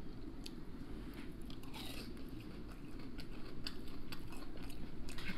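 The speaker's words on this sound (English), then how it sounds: "Let me take a couple more bites." Close, continuous crunching and chewing comes from someone biting into a platter of fried fish and chips. There is no talk over the eating.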